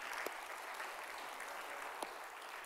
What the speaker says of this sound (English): I think that deserves a clap for my mum